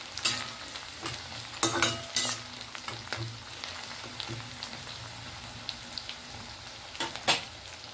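Onion frying in a pan for fish curry, a steady sizzle with bursts of stirring scrapes and clatters, fairly close, with no talk.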